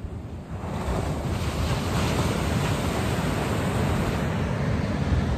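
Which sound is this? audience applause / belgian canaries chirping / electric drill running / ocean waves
ocean waves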